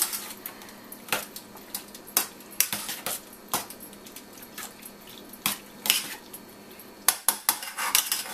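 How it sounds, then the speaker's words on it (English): Chicken cubes are mixed with lemon juice in a bowl, giving a rapid, irregular series of close utensil clinks and scrapes against the bowl with no talking. "To that I'm going to add 1/4 cup of lemon juice. I'm going to mix well."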